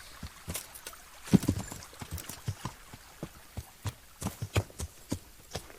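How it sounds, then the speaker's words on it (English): Horse hooves trotting at an easy pace in the medieval game Kingdom Come: Deliverance, a steady series of soft, fairly faint clip-clop beats over low ambient background. "I find it so comfortable just trotting along."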